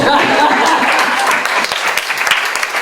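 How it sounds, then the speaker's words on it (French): Audience applause at a French-speaking gathering, a steady wash of many hands clapping close by that thins into scattered claps toward the end. "merci pour les applaudissements"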